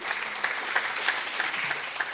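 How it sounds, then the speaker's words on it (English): Audience at a ladies' training camp applauding, with steady, moderately loud clapping from a small crowd at a near-even rhythm throughout, no voices over it. "Doesn't that happiness deserve more clapping?"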